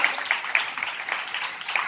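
A church congregation applauding during a pastor's sermon: a steady patter of many hands clapping at moderate volume throughout, with a few sharper individual claps standing out and no clear speech.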